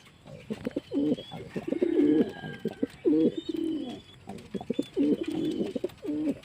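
Several racing pigeons coo in repeated, throaty rolling phrases, close by and fairly loud, with faint chirps in the background.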